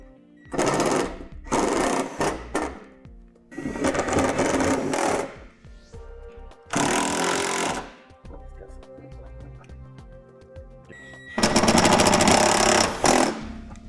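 A power tool runs in several loud bursts of two or three seconds, driving fasteners back into the underbody panel of a 2008 Infiniti G35, with short quiet gaps and faint clicks between the bursts.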